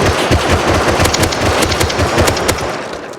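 Automatic gunfire rattles in a PvP match of the video game Rust. Rapid, dense bursts of shots run loud and close throughout, with no talk.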